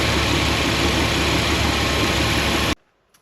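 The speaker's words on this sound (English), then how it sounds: "the engine will start up" A car engine with a hot-start problem catches and idles loudly with a steady broadband roar close by, then cuts off abruptly into near silence at the end.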